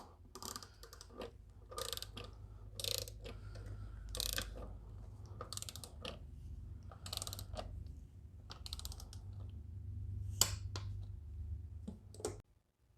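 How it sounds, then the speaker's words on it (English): Torque wrench tightening head gasket bolts to 84 inch-pounds, with rhythmic ratchet clicks in short bursts, close and fairly quiet against a low steady hum. "So I'm going to torque them down to 84 inch-pounds, not foot-pounds, inch-pounds."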